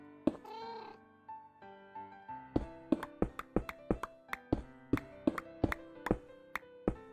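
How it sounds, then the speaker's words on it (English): A cat meows close by a few times at the start, with rapid sharp tapping and chopping-like knocks following in a quick irregular rhythm. "the cat is meowing. It's meowing a lot, kind of"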